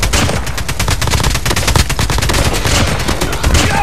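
Dense, continuous strafing gunfire from an air-support run in Call of Duty Mobile: rapid bursts of shots blur into a loud, steady barrage that fills the whole stretch without pause.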